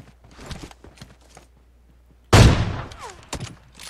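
Gunfire in the PlayerUnknown's Battlegrounds video game: a loud, close burst of shots with a long ringing tail, set among scattered softer footsteps and small clicks before and after.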